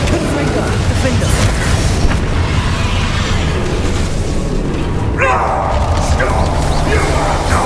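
Explosive spell blasts from Bombarda and Confringo in the Xbox game Hogwarts Legacy, with booming bursts and crashing impacts filling a dense, loud battle soundscape over continuous rumble.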